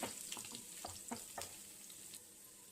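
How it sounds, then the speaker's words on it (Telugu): Cumin seeds, garlic and finely chopped ginger frying in hot oil, a steady faint sizzle with a few soft scraping stirs, no voices. "నూనె వేడయ్యాక కొద్దిగా జీలకర్ర వేసుకోవాలి. అందులోనే 4 వెల్లుల్లి, సన్నగా తరిగిన అల్లం ముక్కలు 4 వేసి బాగా కలుపుకోవాలి."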